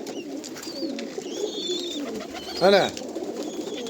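Pigeons coo nearby, with one short, clear rolling coo standing out near the end over a quiet background of faint chirps, and someone speaks a single brief word.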